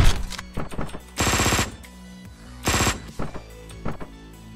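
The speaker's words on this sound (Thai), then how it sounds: "ผมชอบใช้ปืนครับเพราะว่ามันจะไวกว่านี้" Gunfire in the Hotline Miami 2 video game, loud rapid bursts of automatic fire in two sustained volleys, separated by sharp single shots and short clicks, with no talking.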